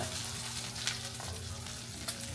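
Steady sizzling of eggs frying in a pan, a continuous crackle with a couple of sharper pops.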